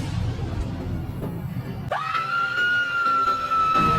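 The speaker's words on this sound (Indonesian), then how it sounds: "Laura sontak berteriak ketakutan dan langsung pingsan" A woman screams in fear at a monster in a horror film: a loud, sustained, high-pitched cry that starts abruptly partway through and holds steady to the end, after a stretch of duller background noise.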